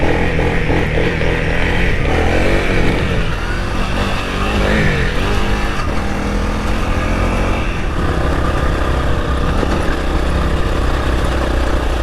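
A Honda CRF300L dual-sport motorcycle rides off-road on a trail, its engine droning loud and close with wavering revs and lugging pulls, mixed with wind and terrain noise throughout.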